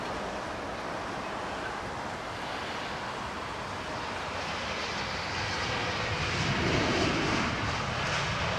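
An airliner landing on runway 27R at London Heathrow makes a broad, steady jet roar that swells and grows nearer toward the end, heard at a distance without talk.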